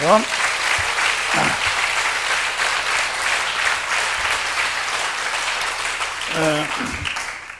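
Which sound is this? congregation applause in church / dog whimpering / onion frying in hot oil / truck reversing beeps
congregation applause in church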